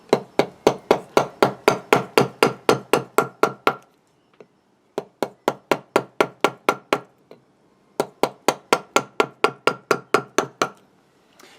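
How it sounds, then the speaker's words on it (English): A wood gouge cutting into a eucalyptus wood bowl, giving sharp, evenly paced knocking strikes in three long runs separated by brief pauses, close and loud, with no voices. "using my gouge, I'm just going to come in slightly above and start working down"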